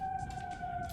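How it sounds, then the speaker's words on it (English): An ambulance siren wails faintly in the distance, a sustained two-tone wail for under a second with no voices. "That's the ambulance."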